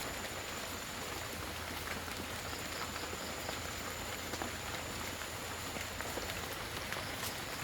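Heavy rain falls steadily throughout, a dense, even hiss of drops drumming on surfaces nearby with no pauses and no voices.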